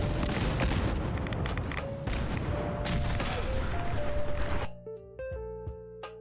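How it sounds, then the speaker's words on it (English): A heavy explosion in Fallout 4 booms loudly with dense, rumbling crackle for several seconds, then cuts to quieter game tones and music. "the second I heard that explosion"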